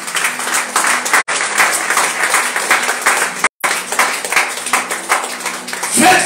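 A church congregation applauding together, a dense, sustained wash of clapping that fills the space, briefly cutting out twice before resuming at full strength.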